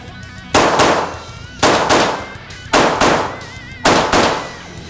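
Four loud, sharp gunshots from a Glock 19 Gen 5 pistol fitted with a Demon Arms compensator, spaced about a second apart, each with a short ringing echo at an outdoor range.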